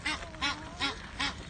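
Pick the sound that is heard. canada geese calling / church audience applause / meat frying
canada geese calling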